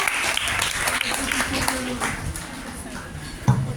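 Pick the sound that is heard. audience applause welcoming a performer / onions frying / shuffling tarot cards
audience applause welcoming a performer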